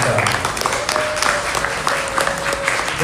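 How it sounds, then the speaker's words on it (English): Applause from a hackathon audience at a San Francisco robotics event, steady dense clapping across the whole moment with a faint tonal whistle or cheer running through it. "Please give them a warm round of applause"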